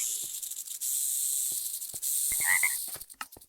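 Frog croaking in a Minecraft zoo frog exhibit, heard as a short game sound effect over a steady hiss of ambient noise, with a few scattered clicks and no one speaking.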